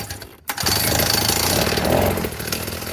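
A 1964 Fuji Go Devil folding mini bike's small engine catches after a brief gap and runs with the choke on, a loud, rapid, buzzy putter that holds steady close by.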